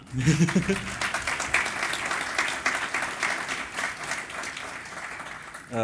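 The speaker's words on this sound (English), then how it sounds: "And with one round of applause for Alberto." A conference audience at a summit applauds an attendee, a full, even round of clapping that swells early and holds steady, with a voice breaking in at the very end.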